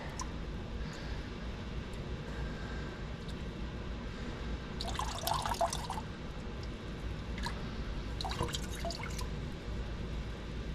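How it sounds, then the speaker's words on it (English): Water drains steadily with a low, continuous trickle and two short bursts of splashing drips, faint and close, with no voices over it. "Let it drain the rest of the way."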